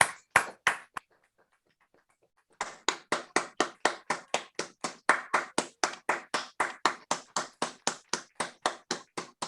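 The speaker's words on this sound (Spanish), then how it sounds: "este gran aplauso" Audience applause for a theatre master after a masterclass in Honduras: a short burst of claps, a brief pause, then steady, evenly spaced loud claps that sound like one or a few people clapping in rhythm, close and clear.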